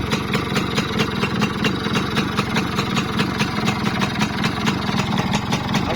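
A Honda Win 100 classic motorcycle engine idles steadily nearby, a continuous, even, rapid putter that stays loud and unbroken throughout, with no talk.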